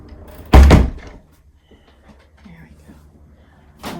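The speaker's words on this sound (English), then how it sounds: "Here's the door." Door of a country general store thumping open once near the start, close and fairly loud, followed by quiet room sounds, faint footsteps and a brief knock at the end.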